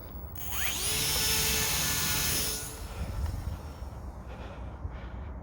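Electric motor of a 3D-printed RC model airplane spinning up to full throttle for a hand launch, a high rising whine that holds loud and close, then fades as the plane flies off, leaving faint wind noise.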